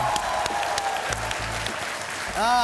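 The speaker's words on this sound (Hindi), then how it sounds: "Thank you, तालियां।" Studio audience on a Hindi TV game show breaks into applause, a brief dense burst of clapping under a little background chatter, ending with a rising musical sting.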